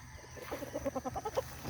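A gamefowl rooster at a gamefowl festival gives a short run of rhythmic clucking calls, close and moderately loud, over quiet background noise.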